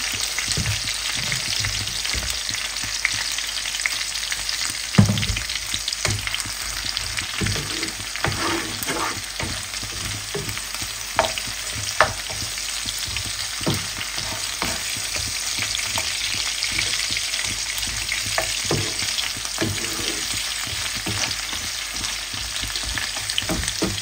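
Steady sizzling of fish frying with onions in a hot pan, with occasional scrapes and clicks of stirring, no voices.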